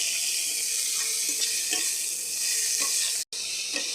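Fish fries lightly in a pan with chilli powder and turmeric, giving a steady soft sizzle with faint stirring clicks, close but quiet, briefly cut off near the end.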